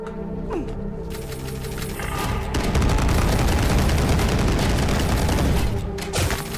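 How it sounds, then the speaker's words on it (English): Rapid chain gun fire in the shooter game Ion Fury, a dense loud burst of repeated shots that builds after a quieter start and keeps hammering to the end. "It is a chain gun though."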